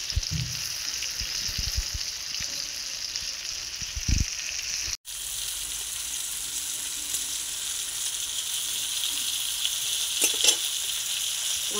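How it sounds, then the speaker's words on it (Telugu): Stuffed eggplants (gutti vankaya) sizzling steadily in a frying pan, a close, continuous crackle with a brief stir-like knock early and a short break midway. "ఒక పావు గంట సేపు ఫ్రై అవ్వాలండి, బాగా మగ్గిపోవాలి."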